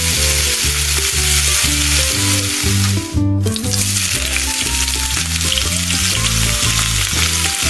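Prawns and seafood coated in egg and flour batter fry in oil with a loud, dense, continuous sizzle, briefly dipping just past three seconds, with no talking.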